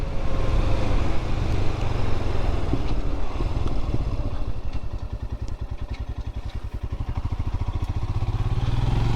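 A 2022 Royal Enfield Himalayan Scram 411 single-cylinder motorcycle is heard close up while riding. It gives a loud, steady thump that dips midway and then settles into a distinct, rapid pulsing beat as the engine revs pick up.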